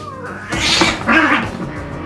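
Cat yowling as it is put into a pet carrier, two drawn-out, loud caterwauls in quick succession, close up, with no speech.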